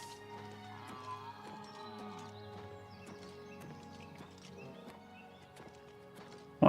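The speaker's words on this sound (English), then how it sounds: "A horse or some random cow that I heard in the background then." Horse hooves clip-clop in a steady walking rhythm in the video game Oblivion Remastered, fairly soft and even, with game ambience and faint tonal sounds around them.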